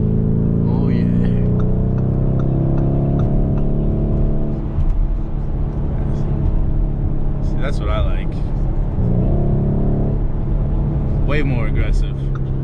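A 2019 Lamborghini Urus in Corsa mode idles with a deep, rumbling exhaust and sharp throttle blips that rise and fall. It is heard from inside the cabin while someone talks over the engine.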